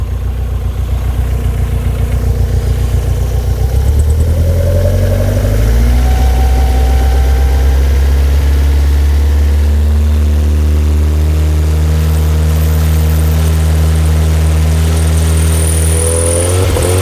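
A Skoda Estelle 120 engine idles loudly nearby, its steady low hum shifting pitch as the revs settle, then holding a smooth, even tick over.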